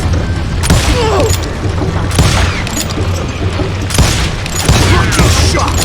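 Gunshots and booming blasts in the western shooter game Call of Juarez Gunslinger, loud and repeated in bursts through the clip, with a low rumbling bed beneath and some game voice in the mix.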